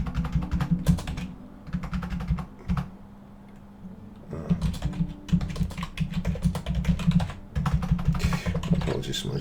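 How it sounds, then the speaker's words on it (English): Typing on a computer keyboard, with quick bursts of key clicks that stop and start, heard close up over a low steady hum and with a short pause near the middle. "Apologies for my dreadful typing."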